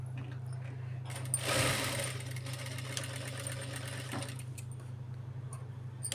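A sewing machine runs steadily and close, stitching around the neckline of a child's lehenga blouse, with a constant motor hum and a brief louder burst early on. No one speaks.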